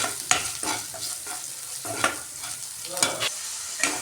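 Ginger garlic paste fries in a pan with a steady crackling sizzle, broken by repeated scraping stirs of a spoon, close and fairly quiet, with no talking.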